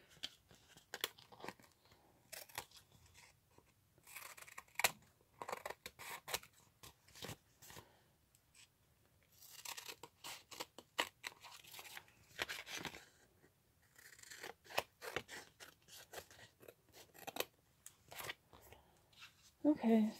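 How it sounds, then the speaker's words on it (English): Scissors snipping through paper to trim an envelope with pockets, a series of short crisp cuts and rustles in irregular bursts, with quiet talk in between. "Just cut off the extra."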